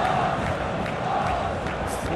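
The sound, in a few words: stadium crowd in PES football video game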